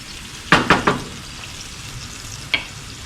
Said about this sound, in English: shrimp mix, it's starting to boil up and reduce a little bit